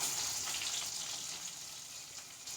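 Sliced onion hitting hot oil in a pan for a Kerala-style roasted-coconut prawn curry, giving a steady, hissing sizzle up close with no talk.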